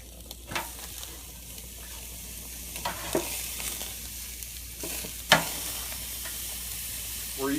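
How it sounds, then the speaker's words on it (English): Steaks sizzling on the cast iron cooking grids of a Broil King Porta-Chef tailgating grill, a steady low frying hiss with a few sharp clicks and scrapes from turning the meat, close and moderately quiet with no talking. "we're getting ready to flip the steaks one more time"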